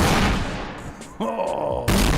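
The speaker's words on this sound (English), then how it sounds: "Some of them bring their own fireworks." Fireworks set off outside near a crowd give loud booming bursts, one dense rumbling blast at the start, a second sharp report near the middle and another at the end, with no clear speech.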